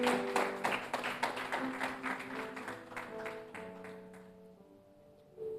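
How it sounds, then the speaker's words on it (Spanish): A church congregation claps in a lively rhythm over sustained music, and the applause thins and fades away toward the end. "Dale un fuerte aplauso al Rey de Reyes."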